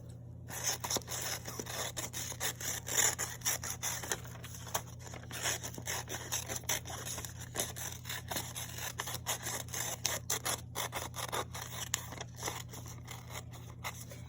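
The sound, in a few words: scissors cutting out paper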